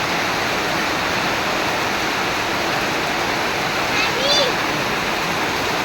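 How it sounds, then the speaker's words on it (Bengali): Heavy rain pours steadily and loudly, a dense, unbroken roar that lasts throughout, with a brief faint sound rising above it near the end. "দেখছেন এত পরিমাণ বৃষ্টি, সারাদিন এরকম বৃষ্টি হলো"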